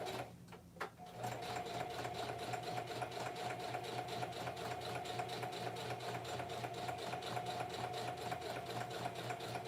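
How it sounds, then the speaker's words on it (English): A sewing machine stitching together the paper signatures of a junk journal: after a brief pause with a couple of handling knocks, a steady, fast, even mechanical whir-and-clack runs continuously at close range, with no voices. "I hope the sound of my sewing machine didn't cause any allergic reactions."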